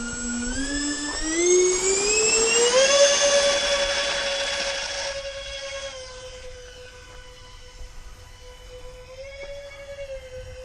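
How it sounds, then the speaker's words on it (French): Four-jet RC Airbus A380 model with 1500 mm wingspan on a 4S LiPo, its electric ducted fans whining up in pitch as it takes off, then a steady loud high whine holding as it flies, with no talk. "4 réacteurs, ça fait pas mal de bruit."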